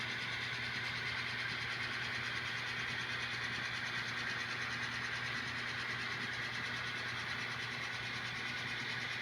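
A steel freight train rolls through a rail yard with a faint, steady, distant rumble and wheel noise. No voices.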